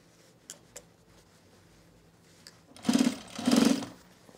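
A sewing machine stitching a men's utility jacket runs in two short bursts of steady, buzzing whir close by, preceded by a few faint clicks and handling sounds, with no talking.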